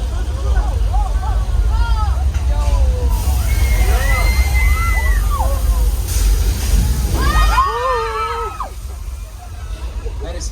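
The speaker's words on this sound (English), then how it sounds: "thousands of gallons of recycled water that is now charging under the bridge" Water from a staged flash flood effect at Universal Studios Hollywood rushes and sloshes loudly throughout, with a crowd murmuring and shrieking over the torrent.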